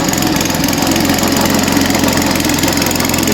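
A snow blower engine runs steadily up close, a loud continuous rattling drone with an even knocking pulse and no pauses.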